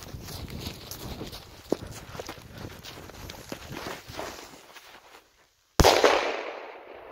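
An F3-category firecracker goes off outdoors with a single sharp, loud bang after a moment of near silence, its echo trailing away; shuffling footsteps and rustling come before the blast.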